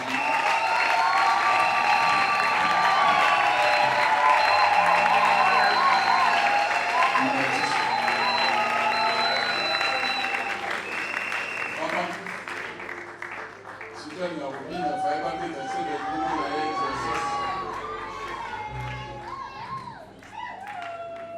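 Applause and cheering from a congregation at a church ordination ceremony, sustained and fairly loud, with voices and some children's chatter mixed in, easing slightly toward the end.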